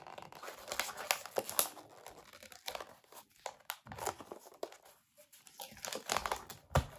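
Plastic and cardboard packaging crinkles and tears up close as a boxed knight figure from a nerd collectible game is opened, in dense bursts of rustling with brief pauses.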